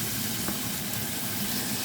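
Lardons fry in a pan with a loud, continuous, close-up sizzle and crackle that stays steady and unbroken, with no voices.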